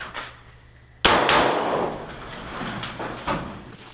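A single loud, sharp gunshot from a short-barreled rifle fitted with a PWS CQB compensator cracks out outdoors and rings off into a long echo, with a fainter second report near the end.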